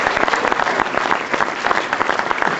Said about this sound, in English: Come on, applause.